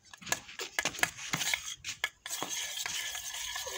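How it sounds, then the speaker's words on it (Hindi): Egg being stirred briskly in a bowl for saag egg roti, with a spoon clinking and scraping in quick, uneven strokes up close, then fading into a steady, softer background hiss. "अब इसको जो है मिक्स करूंगी"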